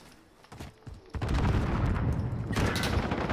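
Gunfire in an online shooter game: a few scattered sharp shots, then a sustained loud barrage of rapid booming fire that keeps going to the end.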